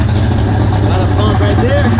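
A Yamaha 250 outboard engine idling after a fuel pump overhaul and fresh spark plugs gives a loud, steady low rumble throughout, with a voice faintly audible over it.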